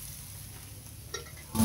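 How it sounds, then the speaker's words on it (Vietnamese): Oyster mushrooms fry in a pan before being stir-fried, a low steady sizzle that rises sharply and grows louder in the last moments. "Trước khi mình xào thì nấm bào ngư mình sẽ chiên cho nó hơi vàng một chút."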